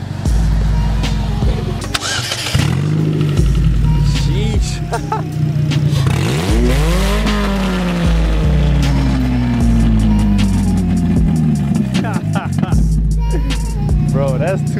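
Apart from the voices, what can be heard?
loud car exhaust, engine starting and revving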